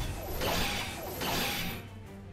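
Metallic smashing clashes and swishes from a visual novel fight, as a sword blocks furious blows in two or three heavy, rushing impacts that fade toward the end.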